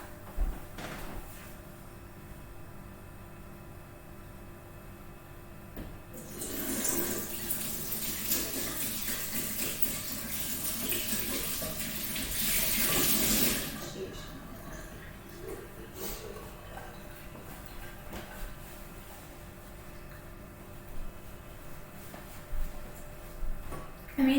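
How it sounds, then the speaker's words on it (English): A tap runs in a home kitchen for hand washing while cooking triple chocolate cookies, a steady rushing stream lasting several seconds at moderate volume before shutting off, with quieter handling knocks and small clatters around it. "So I'm just going to quickly wash my hands"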